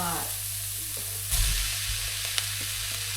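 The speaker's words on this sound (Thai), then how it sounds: "ผัดแฮมกับหอมนะคะสุกแล้ว" Ham and onion stir-fried in a pan give a continuous bright sizzle, with a spatula knock and a short scraping burst partway through, close and steady.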